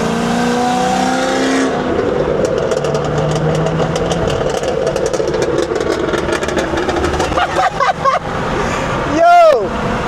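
A Stage 2 BMW 340i engine drones loudly under load while driving away from a car meet, with crackling pops on the overrun and voices talking over it.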